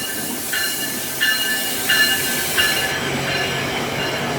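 A GO commuter train rolls along its rails with a steady low rumble and hiss, broken by four evenly spaced high metallic squeals or clacks from the wheels; no one speaks.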